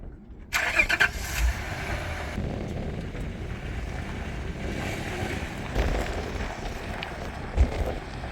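A Nissan R50 Pathfinder 4x4 starts up at a desert winter campsite and idles steadily before pulling away, its engine close and continuous with a brief louder surge near the end.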